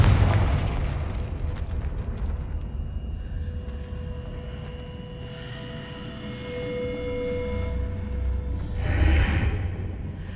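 A Confringo explosion spell in the video game Hogwarts Legacy: a loud booming blast up front that rumbles and decays into whooshing, tonal magical effects, with another burst swelling near the end.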